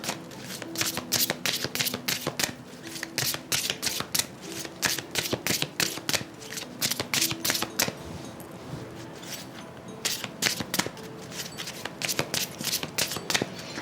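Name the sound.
shuffling oracle cards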